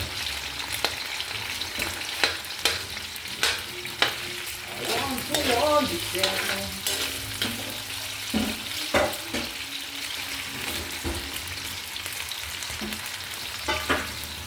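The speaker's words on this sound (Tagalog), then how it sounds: "Prito lang muna yan patatas." Steady sizzling of potatoes frying in hot oil, with occasional clinks and scrapes of stirring throughout; no talking.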